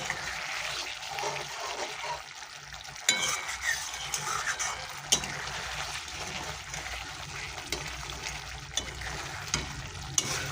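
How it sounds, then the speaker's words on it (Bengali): Egg curry simmers and sizzles in a pan while a spoon stirs it, a steady bubbling hiss with occasional soft clicks of the utensil against the pan, close up. "তো বন্ধুরা, আমি একটু ভালো করে নেড়ে দেবো।"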